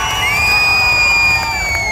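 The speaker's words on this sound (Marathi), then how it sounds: "चिपळूण मध्ये आल्यावर जरा याला खणखणी जोरदार टाळ्या वाजवा" Loud, dense crowd at a Dahi Handi festival in Chiplun, cheering and whooping continuously with children's shouts mixed in, while individual claps are hard to pick out within the roar.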